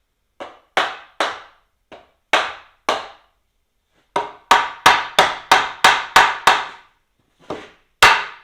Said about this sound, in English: I'm hitting on the outside of the style on both points